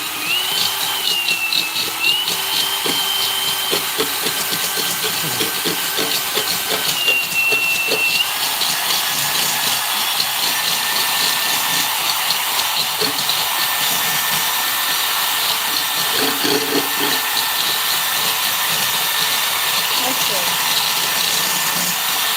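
A power drill whines continuously, its pitch wavering now and then, a steady mechanical drone with no pauses.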